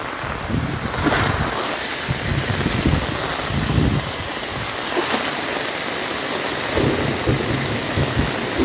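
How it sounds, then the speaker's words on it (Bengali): Heavy rain pours in a dense, steady roar in Cumilla, Bangladesh, with low rumbling surges like distant thunder rolling through during lightning. "প্রচন্ড বৃষ্টি"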